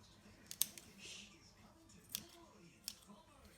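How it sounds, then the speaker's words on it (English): Sharp fabric scissors snipping through folded fabric for a no-sew shabby chic flower, a few quiet crisp cuts spaced apart over a low, soft background. "And just start cutting away. You should probably use sharp scissors, or cutting scissors, actually,"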